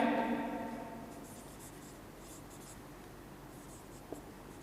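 Writing on a board during a maths lesson on arithmetic progressions, with faint scratchy strokes heard after a fading resonant sound, quiet and intermittent, followed by a tiny tap.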